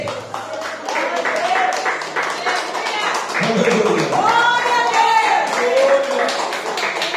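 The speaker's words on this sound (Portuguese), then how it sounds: "pode sentar e aplaudir o Senhor Jesus Cristo" Church congregation clapping in rhythm during a service, steady fast claps under singing and shouted praise voices, loud and close throughout.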